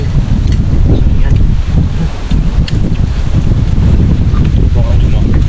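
Strong wind roars and buffets the microphone outdoors, loud and continuous with gusty pulses, and muffled voices faintly underneath.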